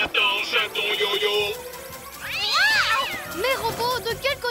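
A cartoon kitten meows in a French animated series, a loud wavering cry rising and falling near the middle and then several short mews, over a busy soundtrack with a high tonal effect at the start.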